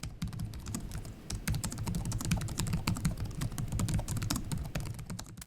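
Steady, rapid key clicks from typing on an Alienware M16 R1 gaming laptop keyboard, a dense run of crisp taps close to the mic, alone with no talk.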